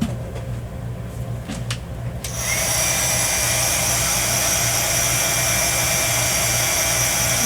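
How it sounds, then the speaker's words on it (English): A small hair dryer kicks on with a click partway through and blows steadily and close, drying a stamped playing card, after a few quiet handling knocks. "I just hit it with the dryer here."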